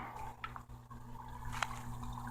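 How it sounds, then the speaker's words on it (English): Water poured slowly from a bucket into a saltwater fish tank, a soft close trickle and splash with a couple of brief brighter spills, quiet and short. "And then I'm going to try to pour without spilling."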